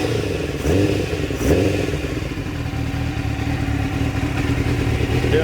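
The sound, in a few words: Suzuki GSXR750 motorcycle engine warming up without airbox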